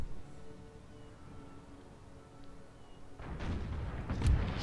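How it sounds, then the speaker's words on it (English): Cannon artillery in an American Civil War game mod, a quiet lull that gives way to a rumbling volley of booms near the end, with no talk. "it's just this cannon group, and I think they just fired"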